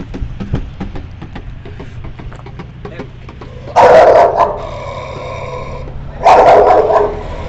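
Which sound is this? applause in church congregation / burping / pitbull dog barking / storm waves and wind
pitbull dog barking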